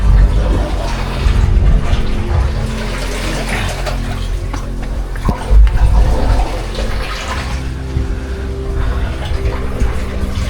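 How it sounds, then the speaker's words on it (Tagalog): Sea water surges into a rock hole on an island shore, a loud continuous gushing and sloshing with swelling pulses and a couple of heavier splashes. "Pasok po yung tubig ng dagat dito guys."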